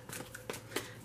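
Tarot cards being shuffled by hand during a love reading, a quiet papery riffling with a few soft slaps, close and faint, with no talking.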